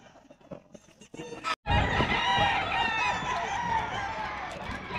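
Chickens and a rooster at a pet market in Bocaue: a near, loud, drawn-out crow rings out over clucking and crowd murmur after a brief gap of quiet.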